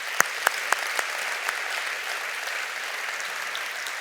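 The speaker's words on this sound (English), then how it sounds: "let's give him and Mark Watts a big round of applause" An audience at a C40 keynote by Michael R. Bloomberg claps for David and Mark Watts, a few loud early claps swelling into a steady, moderately distant round of applause.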